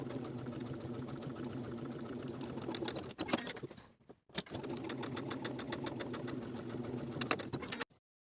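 A sewing machine stitches wool jacket fabric in two steady runs of about three seconds each, separated by a brief pause, then stops abruptly; the motor's hum and rapid needle rhythm are close and clear, with no talking.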